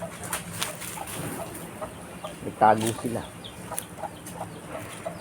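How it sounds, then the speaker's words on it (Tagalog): Chickens cluck softly nearby in short bursts while a person talks over outdoor background noise. "Ito yung mga kasama nating mga manok."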